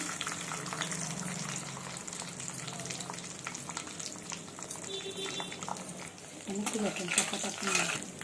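Cumin seeds, a bay leaf and cashews fry in hot oil and ghee in a pan, giving a steady, close crackling sizzle with stirring clinks and scrapes, louder bursts near the end.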